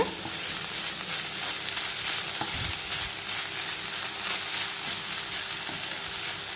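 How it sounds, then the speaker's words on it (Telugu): Amaranth leaves stir-fried with onions in a pan make a steady, close sizzle with occasional scrapes and clinks of stirring, and nobody speaks. "ఉల్లిపాయలతో మరో 2 నిమిషాలు ఈ ఆకుకూరని వేపుకుందాము."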